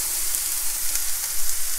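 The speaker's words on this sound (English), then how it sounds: "we need to toast it in the pan. So you keep stirring and cooking again for a couple of minutes." Arborio rice toasting in a hot pan with mushrooms for risotto, a steady close sizzle and crackle running unbroken under occasional stirring, with no voices.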